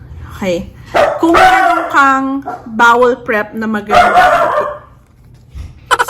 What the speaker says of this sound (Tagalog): sorry sa tahol